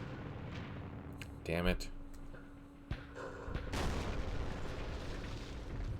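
Mortar fire in the Vietnam war game Campaign Series Vietnam, set at Dien Bien Phu: a sharp blast followed by a few dull thuds and rumbling over steady background noise, with a man muttering briefly.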